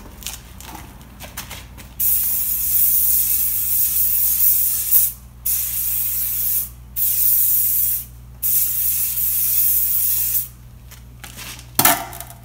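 Lubricant sprayed from an aerosol can outdoors, several loud close hissing bursts of a few seconds each separated by short pauses, with light metallic handling clatter between sprays.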